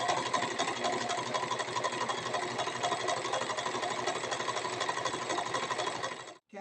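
A sewing machine stitches a wrapped dress with yellow thread, producing a steady, close, continuous mechanical buzz that runs without pause before stopping abruptly at the end.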